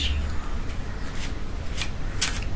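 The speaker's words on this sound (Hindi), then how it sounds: "I am going to shuffle the cards" Tarot cards are shuffled in quick, papery riffles and flicks, a few short bursts close by over a low background hum.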